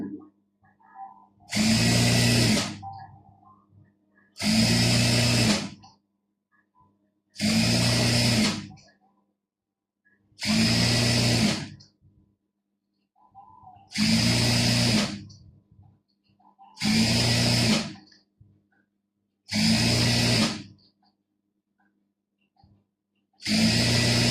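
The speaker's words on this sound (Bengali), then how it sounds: "এখন আমি এখানে ডাবল সেলাই মেরে নিচ্ছি" A sewing machine runs in eight short, evenly spaced bursts of rapid whirring while double-stitching a burqa seam, with quiet pauses between each run, close and loud.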